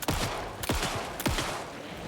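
Gunshots fired in Alan Wake 2, three loud separate blasts roughly half a second apart, each with a booming low tail, heard up close with no talking.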